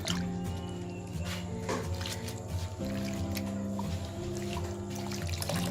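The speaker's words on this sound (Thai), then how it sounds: "แล้วบีบน้ำออกเลยค่ะ" Grated radish for Thai radish cake is squeezed by hand, sending water dripping and squishing out in a continuous wet trickle, close and fairly quiet, with faint background hum.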